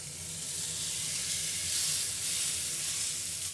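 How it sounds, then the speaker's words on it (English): Wagyu steak sizzling in a pan with beef tallow, a steady, loud hiss and crackle of rendering fat that holds evenly throughout with no voices. "As we place the steak into the pan, we immediately start to render plenty of fat, more than you can ever need"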